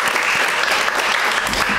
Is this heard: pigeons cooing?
no